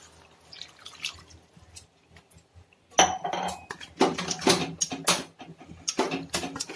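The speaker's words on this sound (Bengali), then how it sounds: "আমি এবার কিছুটা জল এর মধ্যে দিয়ে দিচ্ছি" Water goes into a pan of chicken curry with cauliflower and potatoes: quiet faint clinks at first, then a sudden loud splashing rush with pan clatter and scattered metallic clinks, no voices.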